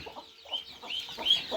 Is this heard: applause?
no